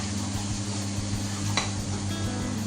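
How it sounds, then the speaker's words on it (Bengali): Ginger garlic paste added to golden-brown frying onions for Peshawari chicken curry, a soft steady sizzle with light stirring scrapes and one brief sharper clatter partway through, fairly quiet and close. "এখন আমি ধীরে ধীরে উপকরণগুলি এর মধ্যে ঢেলে দিচ্ছি। প্রথমে আদা রসুন বাটা পুরোটাই ঢেলে দিলাম"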